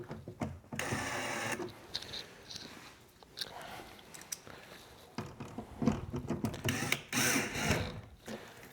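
Screws being loosened on a car door speaker adapter during a 2025 Toyota Camry speaker upgrade, close-up intermittent clicking and ratcheting turns with short pauses between them.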